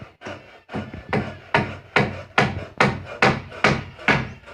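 A hammer strikes wood in a steady series of about ten sharp, resonant blows, evenly spaced and fairly close, with no talking over them.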